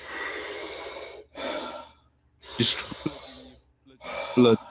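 Slow, deep breaths from a breathing exercise, long rushing inhales and exhales separated by short pauses, close and fairly quiet, with a few clicks and mouth sounds between them.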